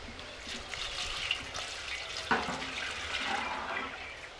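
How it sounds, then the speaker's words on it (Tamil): Sesame oil poured into a clay cooking pot for a village-style fried fish gravy, a soft, quiet liquid trickle lasting a few seconds with faint background noise and no talking. "குழம்புக்கு சட்டி நல்லா இருக்கிறதுக்கு நல்லெண்ணெய் ஊத்திக்கலாம்."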